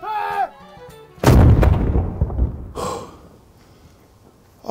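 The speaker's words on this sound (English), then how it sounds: "There's no other job in Halifax where you get to fire a cannon." A noon cannon fires in Halifax with a single loud, deep blast that rolls off into a long fading rumble, after a short stretch of quieter sound; another sharp burst follows near the end.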